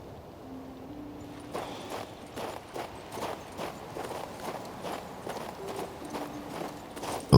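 Horse hooves clip-clop at a steady walking rhythm in the video game King's Bounty II, soft and fairly close, with faint ambient game sounds and no talk.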